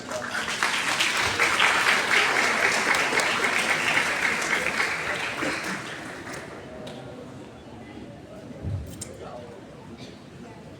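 Audience applause at a university freshman orientation session on spiritual material, loud sustained clapping from a large crowd that fades over several seconds into quieter scattered claps and murmur.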